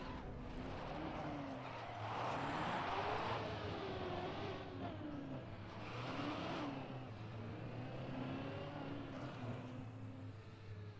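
Car engine in a racing video game, a mid-pitched engine note revving up and down in repeated surges, steady and fairly quiet with no speech over it.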